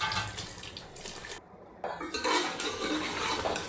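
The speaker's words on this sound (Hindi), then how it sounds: "इसमें पानी डाल के उसे मिक्स कर लें" Water is added to aloo palak in a cooking pot and stirred, producing close clinking of a utensil against metal and soft sloshing, with a brief quiet pause midway.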